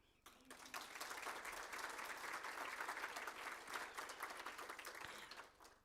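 A teacher-education conference audience breaks into applause, which swells quickly from quiet into steady, moderately faint clapping and fades slightly near the end.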